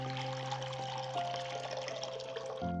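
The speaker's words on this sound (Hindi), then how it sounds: "उसमें पानी डालेंगे" Water pours steadily into a bowl, a continuous close splashing trickle with a tonal ringing hum underneath, stopping abruptly near the end while preparing grated potato for a fasting-day namkeen snack.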